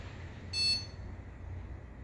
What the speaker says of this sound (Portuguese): Bipou, ele dá um segundo bip, que é quando ele de fato dá a imagem.